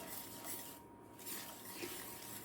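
Sugar and vanilla extract being mixed into banana bread batter in a bowl, a soft continuous stirring and scraping of utensil against the bowl, close and quiet.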